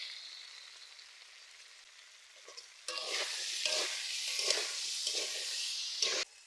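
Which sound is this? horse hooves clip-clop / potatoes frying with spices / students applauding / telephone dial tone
potatoes frying with spices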